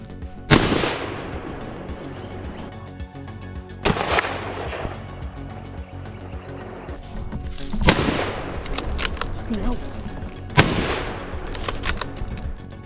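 Four sharp, loud rifle shots spaced a few seconds apart, each echoing and decaying, fired while hunting invasive wild boars on a tomato farm, over steady outdoor background noise and with no speech.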